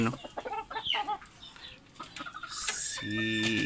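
A backyard chicken near its nest gives soft, close clucks and a few short squawks, then lets out a louder drawn-out call at the end.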